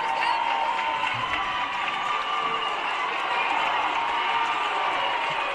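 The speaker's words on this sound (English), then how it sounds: "Woo, that fired up the crowd." A high school basketball crowd at a state quarterfinal game cheers and roars in a steady, loud wash of voices that fills the whole gym without letup.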